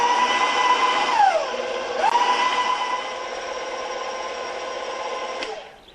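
An electric mixer whirs through chocolate cupcake batter, its motor humming steadily with a clear tonal whine that dips and climbs as the speed is raised, running close and loud before winding down at the end.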